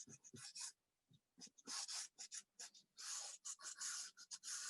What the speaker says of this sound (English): I sketch it out first, so I get the gist of the object by sketching it out.